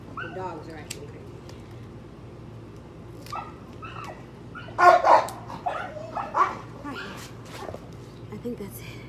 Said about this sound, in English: The dogs are actually crazy.